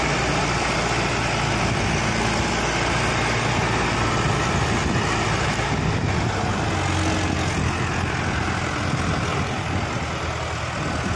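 A Mahindra 555 DI tractor engine drives a mortar machine, running steadily and loudly throughout as a continuous low mechanical drone with a constant rumble and no talk.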